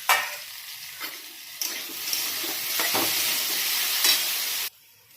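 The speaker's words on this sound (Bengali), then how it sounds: "আলুটা নুন দিয়ে ভাজবো, তাহলে আলুটা সেদ্ধ হয়ে যাবে।" Salted potatoes sizzle loudly in oil in a pan after being uncovered, with occasional stirring knocks under a dense, close frying hiss that cuts off abruptly near the end. No one speaks.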